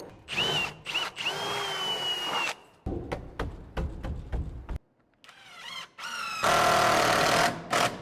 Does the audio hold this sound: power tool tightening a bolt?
yes